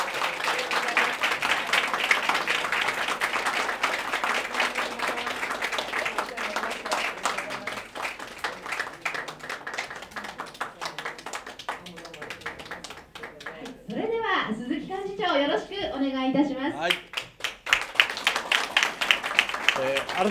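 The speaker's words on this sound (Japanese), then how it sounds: "皆様大きな拍手でお迎えください。" Broadband clapping from a crowd at an election campaign rally fills most of the stretch, continuous and fairly loud, briefly giving way to a voice before the applause swells again.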